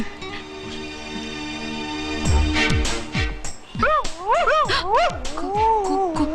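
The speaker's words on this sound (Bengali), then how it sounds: "কুকুরের আওয়াজ না?" Dogs yip and whimper over a sustained musical background, the calls rising and falling in a rapid series during the second half.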